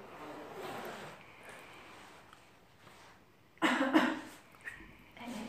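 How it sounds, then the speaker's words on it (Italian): A person coughs once, a sudden loud, harsh burst rising out of quiet room tone, followed by a fainter short throat noise. "si tossisce"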